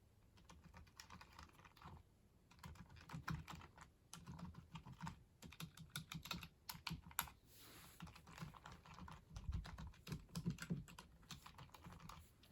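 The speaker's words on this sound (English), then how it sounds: "It's a very quiet keyboard." Typing on a quiet wireless keyboard powered by two AAA batteries, a soft, fast patter of key presses in uneven bursts, close and faint, with no voices.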